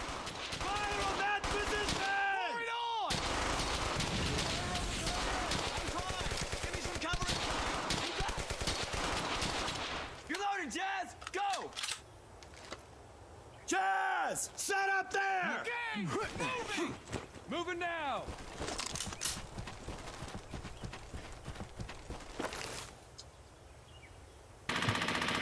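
Bursts of rapid machine-gun fire and gunshots in the video game Brothers in Arms: Hell's Highway, loud and sustained in long volleys with brief pauses, mixed with other game sounds and a voice talking.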